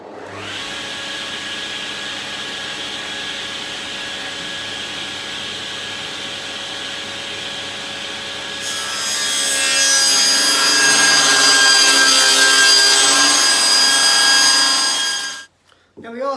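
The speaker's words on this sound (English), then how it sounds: "got the saw set at 125mm, so let's cut the MDF." Table or circular saw set to 125 mm running steadily, then biting into MDF for architrave making, the cut loudening into a harsh, bright whine from about nine seconds until the blade clears near the end.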